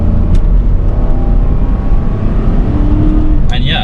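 A 2013 Ford Expedition EL Limited 4WD full-size SUV accelerates hard, its engine a loud, steady low drone heard from inside the cabin, with rising road and wind noise throughout and a brief click near the end.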